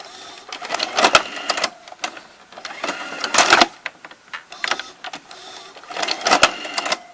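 Toshiba M-447 VCR's cassette carriage mechanism ejecting a tape: bursts of whirring motor and clicking gears in three mechanical episodes, close and fairly loud, separated by short quiet gaps.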